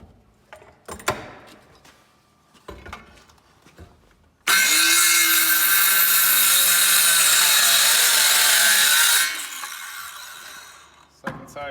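A power saw trims scrap barn wood for a birdhouse, cutting in one steady loud burst of about five seconds, with some handling knocks before and after.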